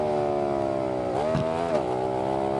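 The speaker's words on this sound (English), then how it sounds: "Motorcycles sound real good." A motorcycle engine in a video game hums steadily, then revs up briefly with a rising and falling pitch before settling back to a smooth drone.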